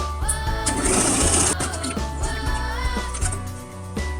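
Sewing machine stitching a sleeve into a dress, a steady fast mechanical whir of needle strokes running close and loud, briefly slowing and restarting without any talk.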